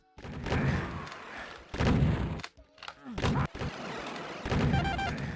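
Shotgun blasts from the video game Doom boom in a rapid cluster of loud, broad bursts, several shots fired close together with brief pauses between them.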